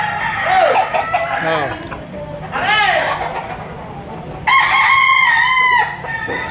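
Farm-raised chickens cluck and a rooster crows loudly at a market, one long crow near the end, with people talking in the background.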